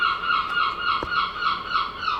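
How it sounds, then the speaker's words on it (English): Birds calling close by outdoors with a turkey-like gobbling, a steady, continuous chorus of repeated calls throughout, with no one speaking. "Hopefully you can hear me above the birds."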